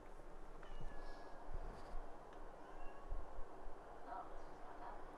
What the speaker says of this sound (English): Yeah, it started meowing again.